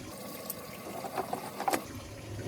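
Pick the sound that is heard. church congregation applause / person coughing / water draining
water draining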